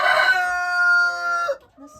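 Chickens in a backyard coop with three separate compartments and laying hens, one bird letting out a loud, drawn-out crow-like call close by for about a second and a half, followed by a short cluck.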